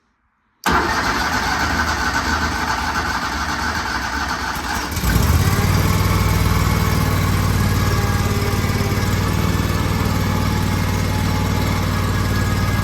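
A 22-year-old Walker MTGHS riding mower engine fires up and settles into a strong, steady run at about half throttle, loud and close, with its low drone continuing alone after the start.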